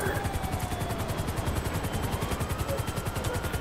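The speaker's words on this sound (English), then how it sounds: "Oh, a helicopter." A helicopter in the video game GTA 5 thuds with a fast, even rotor chop that stays loud and constant throughout, with faint game tones drifting underneath.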